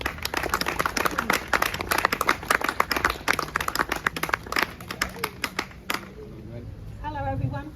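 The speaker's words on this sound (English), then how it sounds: "So can you give Michelle a round of applause," Clapping from a small crowd at an outdoor community protest meeting in Norwich, loud and fairly dense for about six seconds, then fading as a voice begins talking over the last moments.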